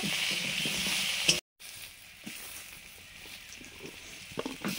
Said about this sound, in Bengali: প্রথমে আলুগুলো ভাজছি